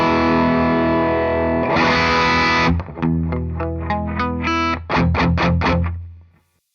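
Loud Gibson ES-335 hollowbody electric guitar through heavy high-gain distortion, sustained chords followed by a series of choppy, rhythmic stabs that ring out and fade.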